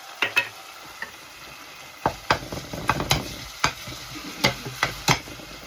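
Quiet frying of sardine in a pan with a series of sharp clatters and scrapes as food is stirred, irregular knocks over a soft background sizzle.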